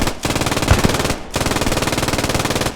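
A machine gun fires in a World War II style strategy game, two long sustained bursts of rapid rattling shots with a brief pause between them, loud and close.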